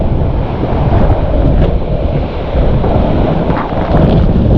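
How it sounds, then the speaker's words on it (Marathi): Heavy rushing water from a monsoon waterfall at Lingya Ghat, a steady loud roar that fills the whole clip with no voices. "माहीत नाही तुम्हाला आवाज येते की नाही, पण माहीत आहे फुल फोर्स आहे पाण्याला."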